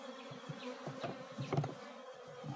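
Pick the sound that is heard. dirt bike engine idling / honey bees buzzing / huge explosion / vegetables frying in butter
honey bees buzzing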